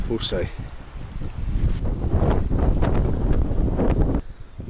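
Strong wind gusts buffet the microphone at an estuary on the River Crouch during a fishing session. The roar is loud and rumbling and swells through the middle before easing off, with talk-like sounds mixed in.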